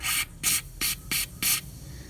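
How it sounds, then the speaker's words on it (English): Rust penetrant sprayed from an aerosol can onto a rusty nut or bolt, five short hissing bursts in steady rhythm, close and clear with no talking. "spray the spot which has rust on it and which you want to unscrew, a nut or bolt, and spray it quite abundantly"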